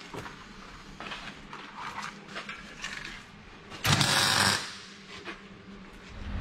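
Old metal brackets are cut off a Suzuki Samurai axle with a power tool, giving intermittent grinding bursts and one loud sustained cut in the middle, close in a workshop.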